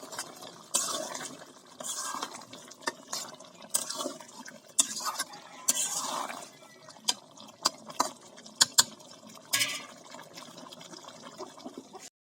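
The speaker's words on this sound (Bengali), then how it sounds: "আলুগুলো দিয়ে আর একটু কষাই নেব।" Potatoes stirred into chicken curry in a pot make scattered scraping, clinking and wet shuffling sounds, some sharp spoon-on-pot knocks standing out from a quiet background with no talk.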